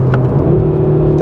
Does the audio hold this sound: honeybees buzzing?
no